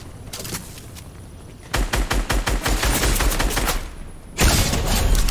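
Gunshots from a gun in the video game Fortnite: a few sharp shots at first, then a fast burst of rapid fire, a brief lull, and a louder blast at the end, with no talk.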